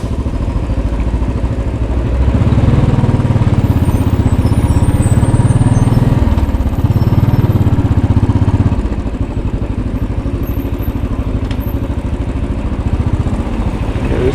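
Royal Enfield Bullet 500 single-cylinder motorcycle riding through downtown New York City traffic, a steady low engine rumble that swells louder for a few seconds mid-way, then settles back to a continuous throb.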